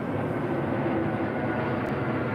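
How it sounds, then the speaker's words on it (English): A passenger airplane passing overhead during an outdoor walk, heard as a steady, broad, continuous roar with no breaks, loud and close, no talking over it. "By the way, there's an airplane coming."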